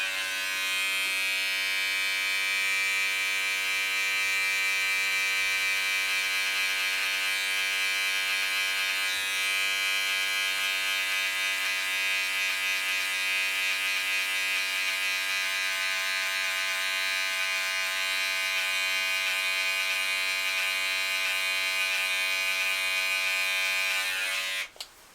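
An electric shaver buzzes steadily and loudly up close while cutting hair during a burst fade self cut, a constant droning whine for about twenty-five seconds before cutting off abruptly at the end; no speech.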